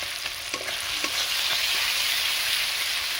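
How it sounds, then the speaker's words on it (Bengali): Ginger paste and spices frying and being stirred in a pan for Bengali jackfruit curry, a steady close sizzle with a few scraping stirs, no voices. "মশলা তো আমার প্রায় ভালোভাবে ভাজা হয়ে এসেছে।"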